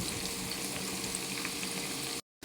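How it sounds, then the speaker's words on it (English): Chopped onions fry in hot oil for jollof rice, making a steady, close crackling sizzle that runs unbroken until it cuts to silence near the end. "I'd let the onion fry a little bit, maybe 1 minute, depends, but don't let it get burnt."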